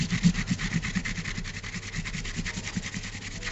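Gold leaf being rubbed hard to strip away the excess, a steady, close scrubbing friction with a quick regular back-and-forth rhythm that keeps going without a break.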